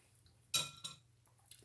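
A clean spoon clinks sharply against a dish while almond-flavoured fruit dessert is being prepared in a kitchen: one bright clink, then a softer second tap and faint tinkles, close by and without talk.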